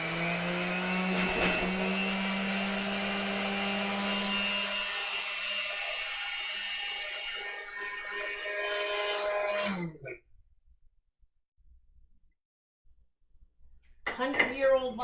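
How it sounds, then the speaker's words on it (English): An old kitchen blender motor whirs loudly with a steady hum and rattle for several seconds, then shuts off into near silence before a brief burst of noise returns. "Hundred-year-old blender."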